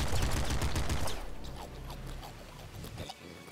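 Rapid automatic weapon fire in the top-down shooter Nuclear Throne: a dense burst of quick repeated shots for about a second, then quieter scattered game effects and softer pops.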